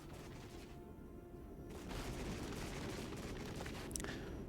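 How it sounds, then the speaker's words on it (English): Distant cluster bomb strike in the wargame Regiments, a steady rumble of scattered, overlapping detonations that swells louder partway through, with one sharp crack near the end and no talk. "That was a really well-placed cluster bomb strike by them"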